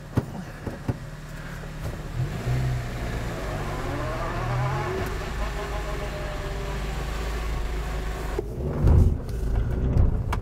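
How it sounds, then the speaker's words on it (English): A Honda Element with a freshly replaced engine and manual clutch drives around a parking lot, its engine humming steadily and rising in a few revs, heard close from inside the cabin, with a brief voice early on. "Want to take it for a spin around the parking lot?"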